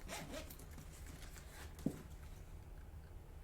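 A zipper with pink pulls runs briefly on a gray and pink case, a quick faint scratchy zip in an otherwise quiet room.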